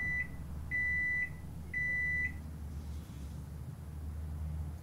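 A microwave oven in a horror video game beeps three times, evenly spaced clear electronic tones over a low background hum, then the hum continues alone.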